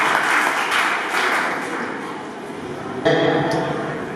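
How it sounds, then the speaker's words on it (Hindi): Enthusiastic audience applause at the Jalore district youth festival 2022, a Nehru Yuva Kendra event. Steady dense clapping fills the hall throughout, with a louder swell of claps near the end. "जोरदार ताली से"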